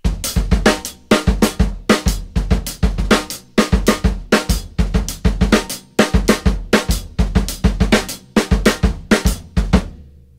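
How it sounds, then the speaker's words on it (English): A drum kit plays a funky groove with the hi-hat hit once on the e of each beat, crisp repeating kick, snare and hat strokes in a steady pattern for about ten seconds, close and alone. "put the one note hi-hat on the E"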